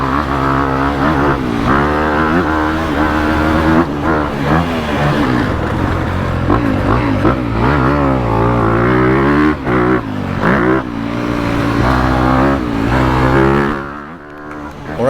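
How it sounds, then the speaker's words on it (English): A 2022 Honda CRF250R dirt bike rides laps on a track, its engine loud and close, revving up and down continuously with rising and falling pitch as it shifts through the gears. "let's jump on this bike, hit a track I know, spin some laps"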